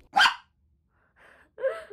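A dog barks while running, giving one sharp close bark followed by two quieter, shorter yelps, each isolated by brief silences.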